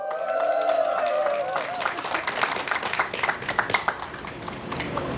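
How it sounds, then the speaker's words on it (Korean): Audience applause and cheering at an outdoor protest rally against a waste incinerator, dense clapping under a voice at first, then sharper scattered claps and shouts building, moderately near. "뜨거운 박수와 함성으로 맞이하겠습니다"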